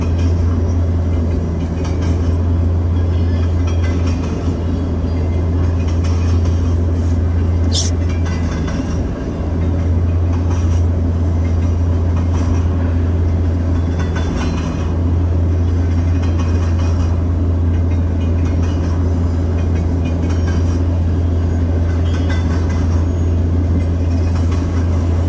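A westbound Union Pacific double-stack freight train on the Transcon line at Fremont, Nebraska, rolls past with a loud, steady rumble and low drone that holds for the whole stretch, with no voices.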